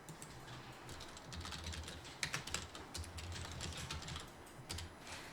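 Typing on a computer keyboard while filling in a table in a Korean word processor; quiet, close clicking keystrokes in irregular bursts with a few harder taps, no talk.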